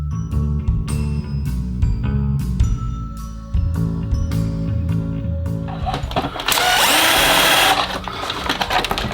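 A small loose bearing or suspension plate rattles inside a Mitsuwa 1/16 scale RC T-34-85 tank, a series of close metallic clicks and clinks that build into a dense, loud rattling burst.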